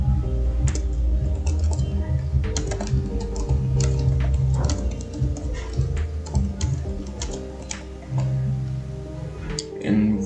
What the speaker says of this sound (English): Now I'm going to type in this text.